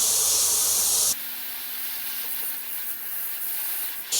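An airbrush sprays paint onto a skull in close, hissing bursts, a loud airy spray that cuts off briefly and resumes at a steady, softer level before swelling again at the end.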